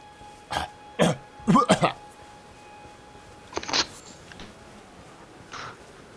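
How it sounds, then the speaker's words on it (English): A person coughs and clears their throat in a few short, harsh bursts, close by, with a fainter cough after a pause, during an Elden Ring play session in Limgrave. "Stop coughing!"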